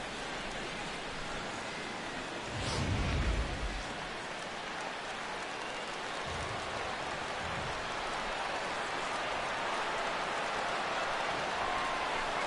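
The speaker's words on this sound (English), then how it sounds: "with the light rain falling the way it is here at game time" Light rain falls on the ballpark in MLB 16 The Show, a steady soft hiss that runs unbroken throughout, with a brief low rumble swelling early on.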